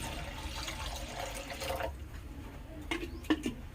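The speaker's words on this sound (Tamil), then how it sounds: "இப்போ 1 லிட்டர் பால் ஊற்றிக்கலாம்." One litre of milk poured into a cooking pot on a stove, a soft continuous liquid rush that fades out, followed by a few faint clinks and handling noises.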